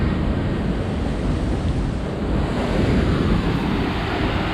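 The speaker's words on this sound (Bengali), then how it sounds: "এই হচ্ছে ওয়াটারফলস, জল যাচ্ছে।" A forest waterfall gives a steady, broad roar of rushing water that stays loud and unbroken, with wind buffeting the microphone and no voices.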